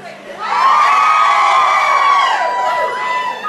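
A crowd at a live Elvis tribute show cheers, whoops and screams loudly for several seconds, the noise swelling quickly and holding steady.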